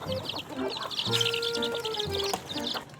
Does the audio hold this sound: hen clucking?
yes